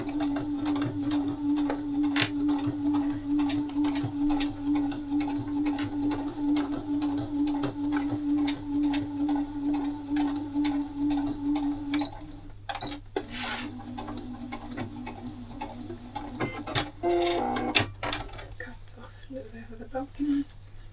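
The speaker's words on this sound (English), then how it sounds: "Take it to your machine and sew together." Home sewing machine stitching the seams of a scrap-fabric zipper pouch, a steady continuous mechanical whir and rapid needle ticking for about twelve seconds, then stopping, followed by scattered handling clicks and rustles.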